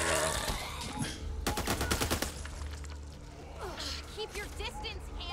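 Bursts of rapid gunfire ring out in the Back 4 Blood video game, loud close volleys spread across the moment, mixed with gasps and grunts and voices talking over the shooting.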